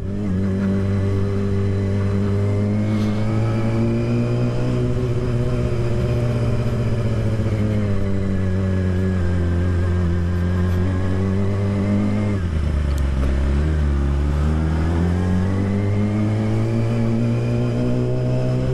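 A Yamaha R6 motorcycle with a loud aftermarket exhaust climbs a steep uphill road, its engine droning steadily and loudly close by for the whole stretch, with a brief dip and rise in pitch partway through as the rider works the throttle.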